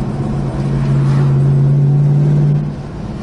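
A 1969 Plymouth GTX engine idles with a deep, throaty rumble, steady and close, rising to a sustained low drone through the middle before easing back.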